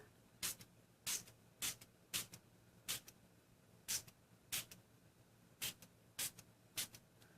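Repeated short bursts of water from a pump spray bottle misting an embossing folder, about ten quick hisses spaced irregularly, close and fairly crisp with quiet pauses between.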